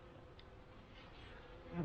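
Honeybees buzz in an open hive as its honey stores are inspected, a soft, close, continuous hum with a brief louder rise at the end.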